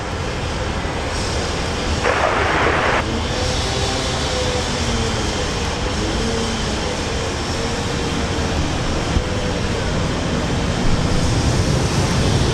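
A Falcon business jet at Brisbane airport, a broad, steady engine roar that holds at a fairly loud level throughout, with a brief brighter burst of noise early on.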